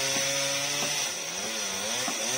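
A chainsaw cuts through a large tree branch in an orchard, its engine a loud, steady whine with harmonic bands that dip and recover under load as the chain bites into the wood.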